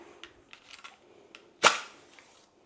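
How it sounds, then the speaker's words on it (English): Lighting a fire lighter inside a 1920s wood stove: a few soft clicks and rustles, then one sharp, loud snap or pop that quickly fades, close by in a quiet room. "And then I light that fire lighter."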